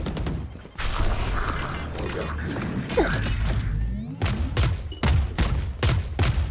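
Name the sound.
weapon reloading in Valorant video game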